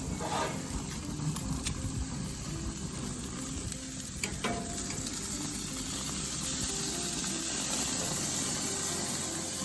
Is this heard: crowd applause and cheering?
no